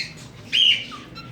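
Australian budgie parrots in a large cage give a single short, bright chirping call, fairly close and clear against a quiet background.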